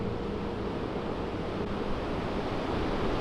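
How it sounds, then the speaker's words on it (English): Ocean surf pounding below cliffs on the South Australian coast at night, a steady loud broadband roar with wind buffeting the microphone and no distinct individual breakers. "just like the waves crashing are just crazy"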